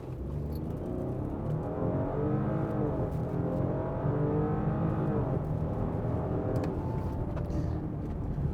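A 2022 Audi Q7 seven-seat SUV accelerates hard from 0 to 100 km/h, its engine note rising and shifting through gears as a steady, loud in-cabin roar lasts about eight seconds without talk.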